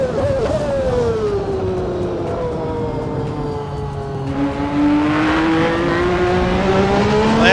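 A 1992 McLaren MP4-7 Formula 1 car in the Assetto Corsa racing game, its loud high-revving engine whining continuously, pitch rising and falling through the gears as it sweeps through corners, with no talk over it.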